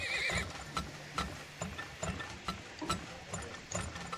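A horse-drawn carriage is placed in the oil-drilling game Turmoil, giving a short whinny followed by a steady run of light clip-clop hoofbeats and small mechanical clicks.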